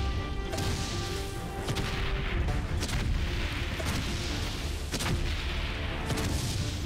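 Tank cannon fire in the WWI video game Valiant Hearts: The Great War, with a run of sharp, booming blasts at irregular intervals over a rumbling battle background and game music.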